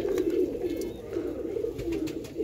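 Pigeons coo in a low, continuous, close-up murmur at a home loft, several birds overlapping with soft wing or foot rustles and no talking.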